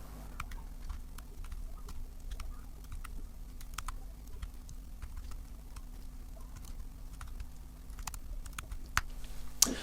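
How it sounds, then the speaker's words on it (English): Keys on a computer keyboard click during spreadsheet-style data entry, with scattered light taps and a few arrow-key presses over a faint steady hum, close and unhurried. "we use the down arrow on the keyboard to move into the next cell"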